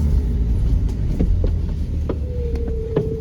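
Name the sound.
Chevrolet S10 pickup truck driving off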